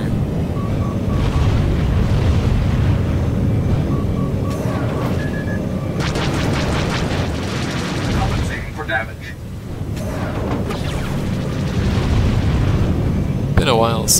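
Cluster missiles launch and burst in a Star Wars space dogfight game, heavy booming blasts and rumbling explosions layered with beeping lock-on tones, while someone talks over the action.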